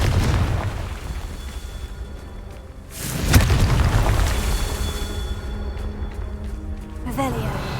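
Hogwarts Legacy's Confringo blasting spell goes off with a loud, sharp boom partway through, set against a rumbling bed of game effects and a voice.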